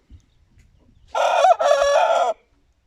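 A Hint rooster crows once, loud and close, a single drawn-out call with a brief break in the middle, surrounded by near silence.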